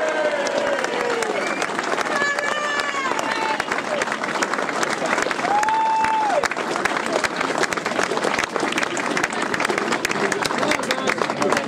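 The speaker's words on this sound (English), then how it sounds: "Round of applause for Barry Fuller" An awards-night crowd of AFC Wimbledon fans applauds Barry Fuller with sustained, dense clapping and some cheers, while voices chatter and a whistle-like call rises over the noise.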